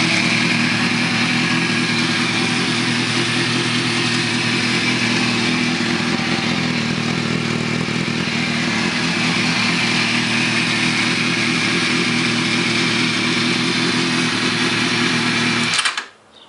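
A 2005 Kawasaki ZX-6R 636 sport bike engine runs close and loud at a steady idle for about sixteen seconds before abruptly shutting off.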